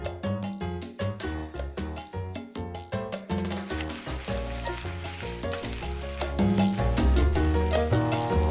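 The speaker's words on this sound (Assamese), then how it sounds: "পিঁয়াজখিনি অকণমান দেৰি কাৰণে ভাজি ৰাখিম ৰঙচুৱা হোৱালৈকে" Onions frying in oil in a wok, a loud, close, continuous sizzle that swells as they cook, with stirring scrapes and background music running throughout.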